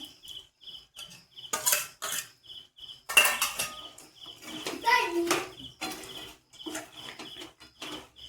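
Fried paneer cubes being mixed with sesame seeds in a pan, with a utensil scraping and clinking against the metal in irregular close bursts and short quiet gaps between them.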